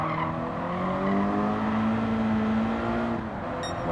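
Toyota GT86 or Subaru BRZ race car in Gran Turismo 7, engine droning loudly and steadily with a rising pitch as it accelerates, tires faintly squealing, no talk.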